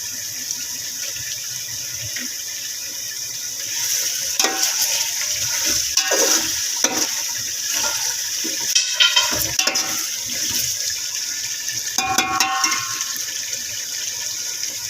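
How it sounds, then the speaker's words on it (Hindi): Water poured from a jug into a cooking pot of aloo pulao with half-cooked potatoes, a steady splashing pour with brief louder gushes, close and alone without talk. "तो गाइस अभी मैं पानी इसमें ऐड कर रही हूँ।"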